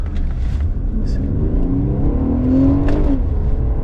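An Infiniti Q50S Hybrid pulls away on electric power alone with the petrol engine off, accelerating with a smooth rising whine, close and fairly loud, with no engine rumble building up.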